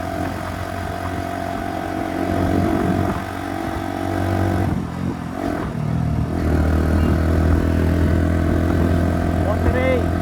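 A motorcycle engine runs steadily while riding uphill in second gear, its low drone and harmonic hum continuous and close, with wind noise and a voice talking over it.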